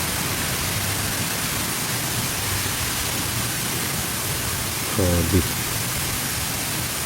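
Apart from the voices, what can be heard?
heavy rain and strong wind during a storm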